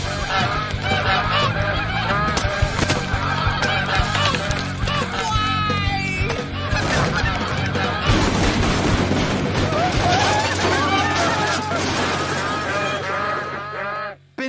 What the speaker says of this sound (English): something's got to be done about those geese